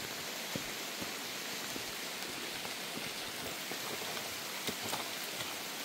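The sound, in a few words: rain falling on a farm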